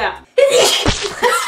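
A single sharp sneeze bursts out close up after a brief silence, followed by a short spoken word.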